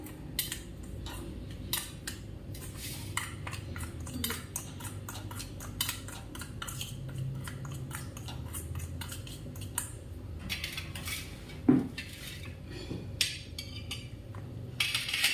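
A spoon mixes amchur powder into a masala filling for green chillies in a bowl, with steady rapid metallic clinks and scraping against the bowl, quiet and close, with one louder knock near the end.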